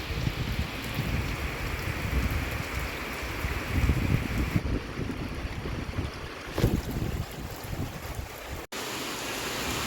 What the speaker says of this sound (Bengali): বৃষ্টির সাথে যে হাওয়াটা হচ্ছে ভালোই লাগছে